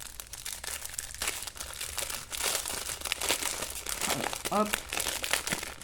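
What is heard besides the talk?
cutting open crinkly plastic bead sachets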